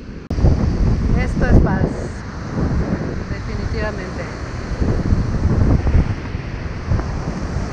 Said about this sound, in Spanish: Vean nada más, las olas del mar